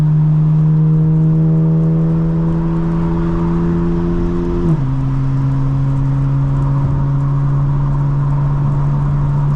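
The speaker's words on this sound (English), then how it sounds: "The rain, the exhaust." Exhaust of a 2024 BMW M4 Competition xDrive drones steadily on a drive in the rain, its tone dropping partway through, with constant rain hiss around the car.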